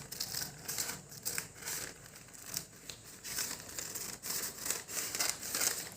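Paper salwar pattern pieces are cut and handled, continuous close crinkling and rustling with soft snipping and tearing textures, no talk.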